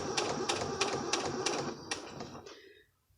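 A sewing machine stitches a garment band in the ditch, a quick run of rhythmic mechanical ticks and clatter that slows and stops near the end.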